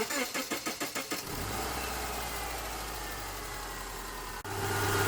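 A Subaru engine, just fitted with new O2 sensors, cranks with a rapid rhythmic starter chug for about a second, then catches and settles into a steady, close, loud idle with a brief dip near the end.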